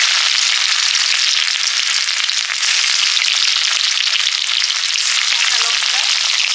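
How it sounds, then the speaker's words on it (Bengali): Dry red chillies, nigella seeds and garlic frying in mustard oil in a kadai, a loud, steady hissing sizzle with crackling pops running throughout. "এই কড়াইতে করবো পাট শাক ভাজা, সর্ষের তেল, শুকনো লঙ্কা, কালো জিরে"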